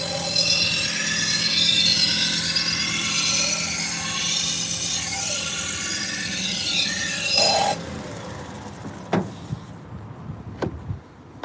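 A knife blade is sharpened on a belt grinder at a restaurant in Kemah, Texas, giving a loud continuous abrasive rasp for about eight seconds before it cuts to quieter room noise with a few faint knocks.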